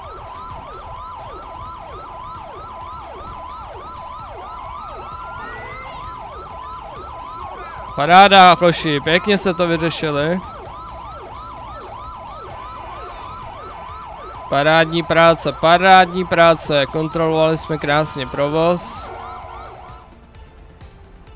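A wailing ambulance siren in GTA V sounds at a highway accident scene, a steady cycling tone punctuated by two loud yelping bursts, while someone talks.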